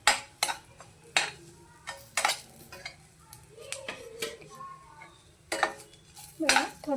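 Onion being stirred in a pan over a low flame, with sharp clinks and scrapes of a metal utensil against the pan at irregular intervals over a faint low background, no talking.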